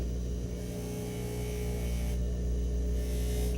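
A rag wheel polishing machine runs in a steady electric hum with a constant droning whine, close and unbroken, and no voices.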